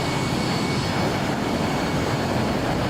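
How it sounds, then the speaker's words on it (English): Cockpit sound of a Fokker airliner in Microsoft Flight Simulator 2024 as its landing gear lowers, a loud, continuous broadband engine and airflow roar with a faint steady whine and no distinct thumps, with no talking. "Look how slow the wheels are taking to come down."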